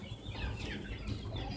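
Backyard chickens kept at home clucking in a dense, continuous flock chatter, fairly loud and close throughout with no speech.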